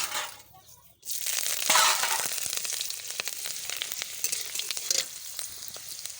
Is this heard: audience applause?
no